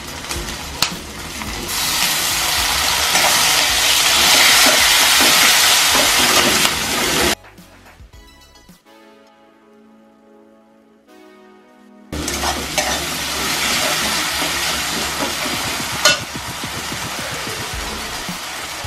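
Chopped tomato sizzles loudly in hot oil in a pan for a fish curry, a close, steady frying hiss that breaks off midway for a quieter stretch before the sizzle returns at full strength.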